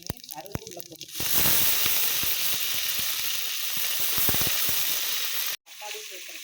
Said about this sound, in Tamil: அப்புறம் கடுகு உளுந்து சேர்த்து நல்லா கடுகு பொரிஞ்சுக்கிறட்டும்